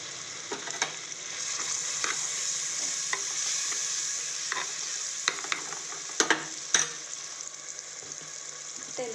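Spices frying in a pan with turmeric and chilli powder being stirred in, a quiet steady sizzle punctuated by frequent scraping and clanking spoon strokes, some louder near the end, without talking.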